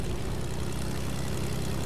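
Steady propeller drone of the airplane in the video game Fortnite, a continuous loud engine hum with no change over the whole stretch and no voices.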